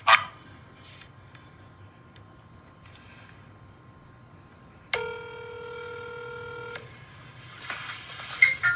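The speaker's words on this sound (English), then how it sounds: "That's my phone." A mobile phone gives off steady electronic tones: a long thin tone, then a louder chord-like tone held for about two seconds, with a dog barking faintly before and after.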